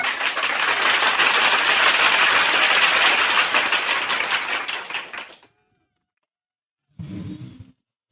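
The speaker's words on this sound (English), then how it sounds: "Give him a round of applause." Loud, dense crowd applause and cheering at a comedic sports talk show, sustained for about five seconds before cutting off, then a brief burst of noise returns after a short silence.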